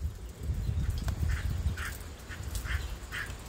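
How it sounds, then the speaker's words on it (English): A duck quacks repeatedly at a moderate distance, several short nasal calls over a steady low rumble of background noise. "Is that a duck?"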